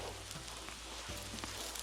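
Korean sugar pancake (hotteok) frying in a pan, a close, steady, dense sizzle with a few soft crackles and no voices.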